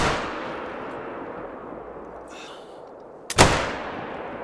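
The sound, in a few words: bolt-action rifle shot in theHunter: Call of the Wild video game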